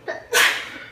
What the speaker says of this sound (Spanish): ese es mi nieto que estornudó